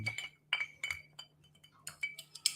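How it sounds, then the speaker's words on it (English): A spoon stirs an old fashioned cocktail in a glass, with bright, close clinks coming in irregular bursts against a quiet background and a faint steady hum. "Gonna stir my old fashioned."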